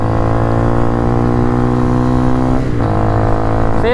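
A cheap enduro motorcycle at full throttle gives a loud, steady buzzing engine note with strong harmonics, holding high revs for several seconds before the pitch dips briefly around a gear change and climbs again.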